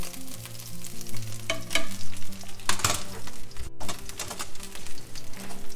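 A kangaroo burger patty cooking on a hot surface, a close, steady sizzle and crackle with bursts of spattering and some scraping, no voices.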